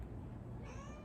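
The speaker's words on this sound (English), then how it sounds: "My cat Luna is bringing her ball into play." Indoor cat playing with a ball gives a single short meow, faint and brief, over a low background hum, with no talk.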